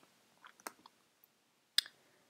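A computer mouse gives a handful of sharp, close clicks at uneven intervals in an otherwise quiet room.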